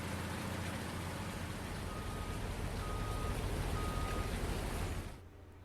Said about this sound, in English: I'm just sitting here in the rain, not doing nothing.